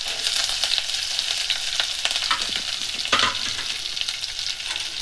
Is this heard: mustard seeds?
yes